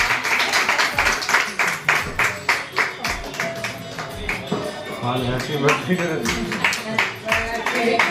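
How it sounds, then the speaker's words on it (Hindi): A small family group at a home birthday celebration claps in a quick, steady rhythm for a cake cutting, close and fairly loud, with voices singing along over the clapping. "हाँ ताली बजाओ ना।"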